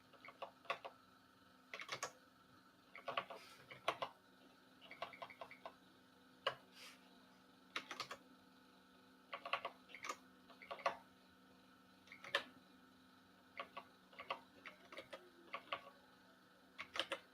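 Light, quiet clicks of computer keyboard keys come in short uneven bursts and single taps, pausing between clusters, close and soft over a faint steady background hum.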